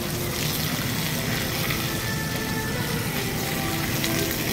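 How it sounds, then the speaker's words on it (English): Water jet spraying hard onto a dirty evaporator coil, a steady loud broadband hiss and splash that runs unbroken from start to finish. "if you back up a little bit, the water hits the coil harder"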